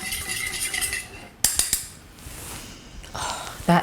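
Lavender essential oil being stirred into a citrus cleansing cream, with scraping and a few sharp clinks of a utensil against the container, close and intermittent with quiet pauses and no talk.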